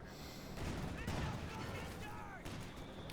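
Mortar fire in the World War II strategy game Company of Heroes 2, heard as dull booms and crackling blasts behind steady battle noise, fairly faint and continuous.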